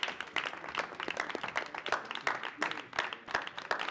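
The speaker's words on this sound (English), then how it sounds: "Let's give these gentlemen all a round of applause" Audience applause at a live conference show, steady dense clapping from a crowd, moderately distant and sustained throughout with no talking over it.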